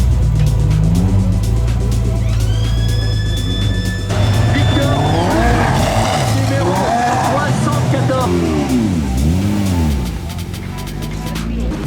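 GT4 race cars at a rain-soaked Nogaro circuit rumble and rev loudly close by, with engine pitches swooping up and down over several seconds and voices talking beneath the noise.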